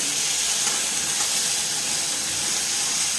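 Ground chili and garlic paste fries in hot oil with curry leaves while being stirred, making a loud, continuous, close-up sizzle with no talking.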